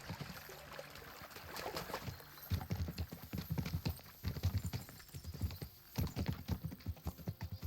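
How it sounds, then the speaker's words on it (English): Horses moving in the Kingdom Come: Deliverance II video game, steady clip-clop of hooves with a faint trickle of water near a stream, quiet and continuous without talk. "As soon as we cross the stream, we'll give the horses a gallop again."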